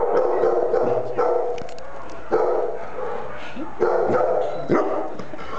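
A dog barks in short repeated bursts at moderate distance, several separate woofs spaced a second or so apart over a steady background hum.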